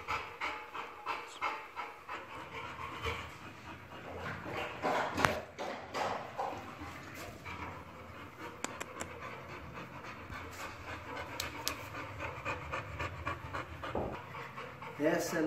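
Rapid panting from a three-year-old breeding stud dog at a kennel in Brazil, steady and close throughout, with scattered clicks and a person talking intermittently over it.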